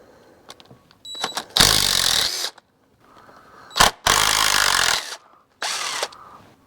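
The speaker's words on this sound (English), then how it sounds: "the rest of them should back out pretty easy with my impact here." Impact wrench backing out transmission pan bolts on a 2006 Lexus RX330, three loud close bursts of rapid hammering, each a second or so long, separated by short pauses and small clinks.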